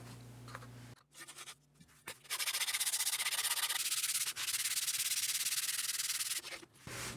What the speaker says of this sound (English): Now I got to get rid of all these swirl marks, which is just a bunch of sanding.